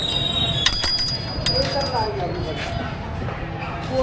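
The bell on a newly bought bicycle gives a few quick, bright rings, heard in short bursts under people talking nearby.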